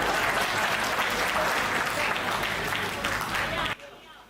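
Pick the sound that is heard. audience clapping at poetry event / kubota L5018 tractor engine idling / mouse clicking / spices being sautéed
audience clapping at poetry event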